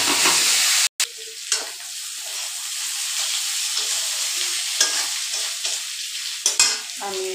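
Bitter gourd with ripe chili being stirred and fried in a curry pan: a steady loud sizzle with intermittent scraping stir strokes, close by, with no talking.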